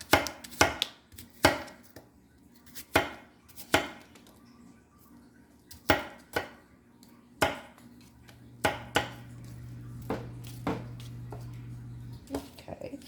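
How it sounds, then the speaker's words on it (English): Sharp knife chops through apples on a cutting board, irregular and close, with pauses between bursts of cuts; a low steady hum runs underneath. "so we're done with these apples and chopping them"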